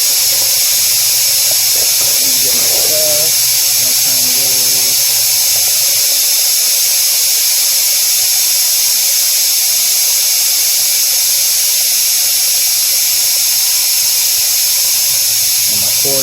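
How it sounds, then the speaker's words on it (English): HVAC vacuum pump pulling a vacuum through manifold gauges on a copper line job, a steady loud mechanical drone with a high hiss that runs unbroken throughout. "I'm gonna pull my vacuum through my gauges"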